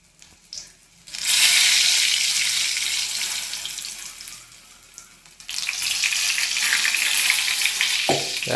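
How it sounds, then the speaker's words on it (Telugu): Chilli bajji batter hits hot oil and sizzles loudly in two long bursts split by a short quieter gap, close up, with no talking. "మరి బజ్జీలు కానీ వేసేస్తాం"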